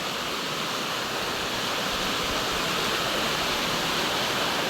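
A creek used for bathing rushes in a dense, steady wash of flowing water, close and unbroken, with no voices.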